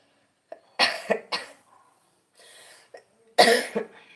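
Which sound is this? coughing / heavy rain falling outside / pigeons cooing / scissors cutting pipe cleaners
coughing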